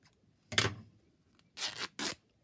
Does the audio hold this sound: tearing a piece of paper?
yes